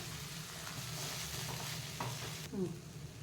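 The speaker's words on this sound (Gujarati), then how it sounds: "હવે આ પૌવા એડ કરી દઈશું." Poha goes into a frying pan with curry leaves, chilies and turmeric, then gets stirred. A quiet steady sizzle runs under a few scraping strokes, and a brief clatter near the end comes from close by.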